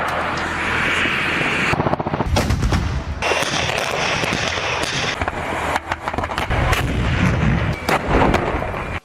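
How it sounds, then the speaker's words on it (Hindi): Heavy Russian artillery fire in the war in Ukraine: a dense, continuous barrage of loud booming blasts and sharp cracks, with overlapping detonations rumbling throughout and only brief dips. "रूस की आर्टिलरी के भयानक हमले यूक्रेन की रक्षा पंक्तियों की धज्जियां उड़ा रहे हैं"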